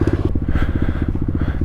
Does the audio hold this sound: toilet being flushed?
no